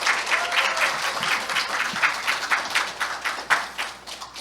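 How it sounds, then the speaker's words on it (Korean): An audience at a university liberal arts education forum applauds to welcome a presenter, a lively burst of many hands clapping close by with distinct sharp claps, lasting about four seconds before easing off. "박수로 맞이해 주시기 바랍니다."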